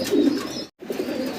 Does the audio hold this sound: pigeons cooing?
yes